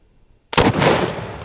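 A 2-bore shotgun fires a penny wax slug: a brief silence, then one sudden, very loud close blast that rings out into a long, dense rumbling decay.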